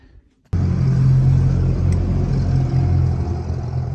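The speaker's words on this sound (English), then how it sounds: "I've had some problems starting the engine with the Royal Enfield." A Royal Enfield motorcycle engine, hard to start in winter cold on the Karakoram Highway in Pakistan, catches after a half-second of quiet and settles into a loud, steady low rumble with an uneven throbbing idle.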